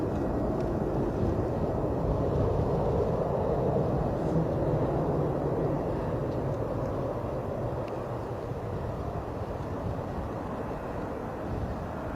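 An airliner climbing out after takeoff at Bristol Airport on a gusty crosswind day: a broad, steady jet roar heard from a distance, holding level throughout with no one speaking.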